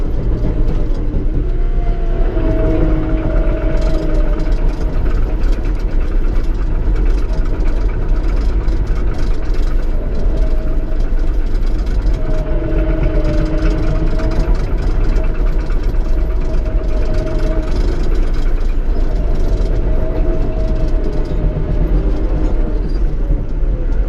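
A John Deere 7610 tractor pulls a 10-foot Taylor-Way disc harrow with 24-inch blades, its engine a steady, loud, continuous drone from start to finish with no voices.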